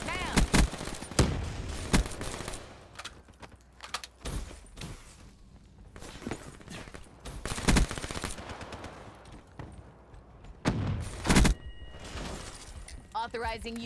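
Shotgun blasts in a first-person shooter video game ring out as several loud, sharp bursts at irregular intervals, with quieter in-game sounds and voices in between.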